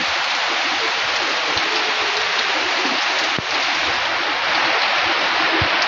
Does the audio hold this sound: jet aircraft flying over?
no